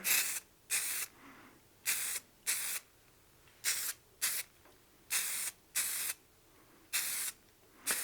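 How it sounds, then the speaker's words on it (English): A spray can applies a finish coat to a turned wooden whistle, hissing in eleven short, even bursts of about half a second each, close and steady, with quiet pauses between them. "Normally I just hold it by hand while I'm spraying it"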